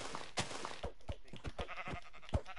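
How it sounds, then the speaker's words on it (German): Sheep bleating in the video game Minecraft, played on PS4; several short bleats in a row, fairly close and clear, with no talk over them. "Oh, oh, oh, schauen das Schaf."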